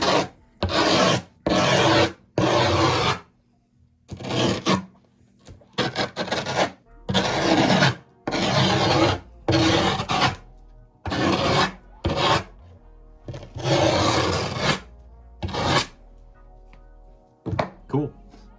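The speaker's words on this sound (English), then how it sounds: "So I'm going to use the sanding feature for the first time." A power tool sands the edge of a freestyle skateboard deck, a Rodney Mullen World Industries Bear reissue. It gives harsh rasping bursts in repeated strokes with short pauses between them, close and fairly loud.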